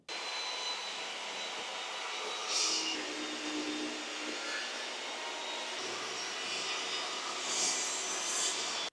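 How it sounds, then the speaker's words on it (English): A table saw cuts a wooden board with a loud, continuous whining roar that stays close and steady for about nine seconds, rising briefly in pitch twice and then stopping abruptly. "And that is all we needed the table saw for."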